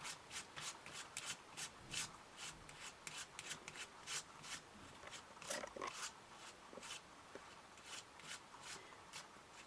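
A spatula spreads paste across a card through a stencil, making quiet, rapid, rhythmic scraping strokes that repeat closely throughout.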